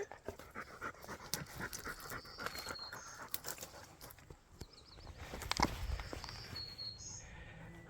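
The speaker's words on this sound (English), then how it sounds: "Oh, there's the dog up there." A dog pants steadily at an open adit of a feldspar mine, rhythmic breaths close by amid crunching footsteps on rock and scattered outdoor noise.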